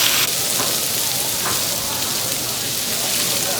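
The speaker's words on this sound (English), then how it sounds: "We will now fry the chicken and try to brown it before we set it aside." Chicken sizzles steadily in hot mustard oil with Indian bay and curry leaves. The frying hiss is loud, close and constant, and a faint stir or two rises over it.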